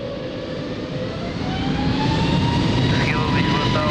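An airliner on its takeoff roll from runway 02 at Lisbon Airport, a loud, steady jet roar that swells gradually and holds, heard together with radio voices.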